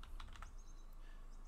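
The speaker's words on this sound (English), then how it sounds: "We're going to type class in the search bar." Light, quick keystrokes on a computer keyboard, a short cluster of clicks at the start followed by a couple of faint taps, quiet and close with no talking.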